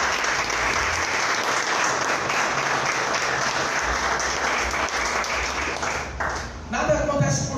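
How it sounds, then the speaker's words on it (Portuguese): A church congregation applauds steadily during a worship service, dense clapping that fills the space at full volume and holds throughout before tapering slightly at the end. "aplauda o Senhor"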